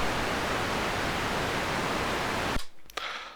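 Oscillator noise output of a Roland SH-101 synthesizer: a steady, loud broadband hiss that runs alone for about two and a half seconds, then cuts out abruptly, leaving only faint clicks.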